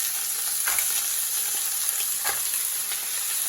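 Mussels going into a hot pot for mussel and clam soup, a steady sizzle with a couple of soft clattering drops and stirring sounds, no talking.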